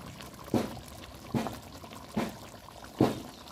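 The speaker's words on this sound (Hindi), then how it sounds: "तो ये मसाला भून जाएगा तब ये दाल मैं इसमें डालूँगी, पानी के अलावा दाल डालूँगी इसमें।" Lentils for dal mutton tipped into frying masala in a pan, heard as four separate soft pouring and splashing bursts, spaced roughly evenly, close and quiet, with no voices.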